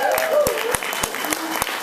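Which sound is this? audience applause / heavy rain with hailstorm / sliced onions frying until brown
audience applause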